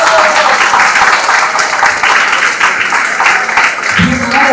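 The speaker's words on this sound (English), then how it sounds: "please give a round of applause to these wonderful ladies here" A round of applause from the audience at a forum event, dense continuous clapping at close range, with a brief low sound near the end.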